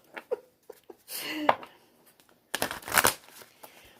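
A tarot deck shuffled by hand gives two brief papery riffling bursts, separated by quiet gaps and faint handling rustles.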